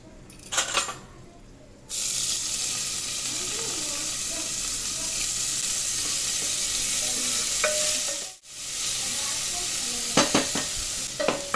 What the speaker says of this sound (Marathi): कांदा आपला एकदम छान भाजून घ्यायचा आहे लालसर होईपर्यंत चांगलं परतून घेऊया